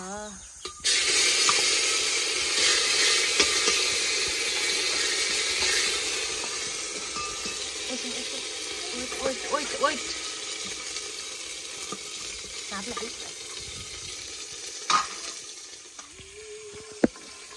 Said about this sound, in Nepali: ज्वानो मेथी, अब पिसेको मसला हालेर हाम्रो यहाँ रेडी हुँदैछ